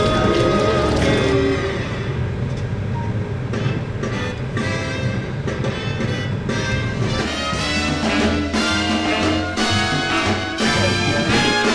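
Rain falls steadily outdoors near a Walmart, a continuous broadband wash with music-like tonal bands running under it and no talk.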